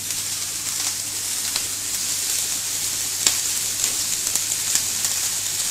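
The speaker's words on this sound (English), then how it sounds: "Now I've put in the veg, and I'm putting some streaky on top. Just going to cook that off quite slowly." Streaky bacon cooking slowly on top of vegetables in a pan: a steady, fairly loud close sizzle and hiss with small pops and crackles scattered throughout, no voices.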